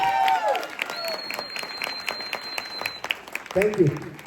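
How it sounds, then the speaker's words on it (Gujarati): A live audience at a Gujarati comedy stage show breaks into a burst of clapping, heard under a speaker's voice and a sustained tone, with talk returning at the end. "એકવાર તમારા માટે જોરદાર તાળીઓ થઈ જાય."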